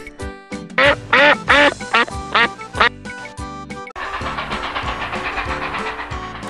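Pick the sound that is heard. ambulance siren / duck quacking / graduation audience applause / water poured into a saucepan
duck quacking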